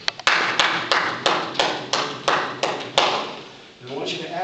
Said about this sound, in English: I want you to get your hands together to clap, and we're going to clap in 2s